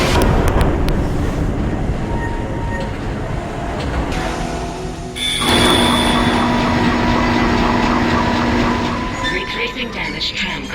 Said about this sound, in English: Replacing damaged tram car. Please stand by.